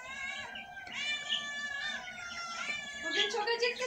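Pet cats meowing indoors at home, with repeated drawn-out, wavering meows close by that overlap in a steady run and rise louder near the end.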